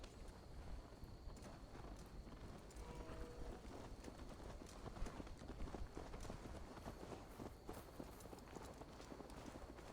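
Quiet rhythmic hoof clip-clops of a horse in Assassin's Creed Valhalla moving at a steady pace, repeating without pause under a faint background hum.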